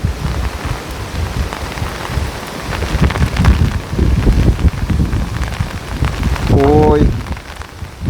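Heavy rain pours down on a Konkan coast at night amid a strong, gusting wind, a dense steady wash with rising and falling bursts, while people talk over it and a short tonal sound cuts in near the end.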